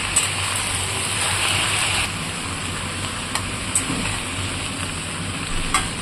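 Ridge gourd and tomato chutney being stirred together with salt in a pan, giving a steady, close sizzling and scraping hiss that runs continuously with a few faint clinks.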